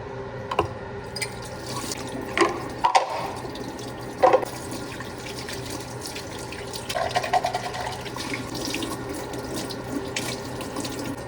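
Tap water runs steadily into a sink while water for a plant is changed, with a continuous close splash broken by a few clinks and knocks of a container.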